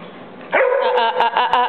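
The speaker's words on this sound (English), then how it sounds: "Don't you start barking." A dog gives a short burst of several loud, close barks and yips, sharp and rapid, with no talking over it.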